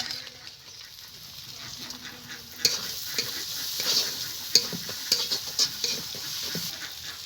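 Chopped garlic and green chili fry in a pan with ginger for a spicy semolina upma, a continuous bright sizzle with intermittent spatula scrapes and clicks growing busier midway.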